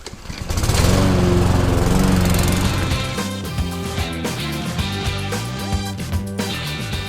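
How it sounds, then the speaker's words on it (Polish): Lawn mower cutting grass, its engine roaring up loudly within the first second and then running steadily and close, with a slight drop in pitch and level after a few seconds, no talking. "No i skosimy to teraz."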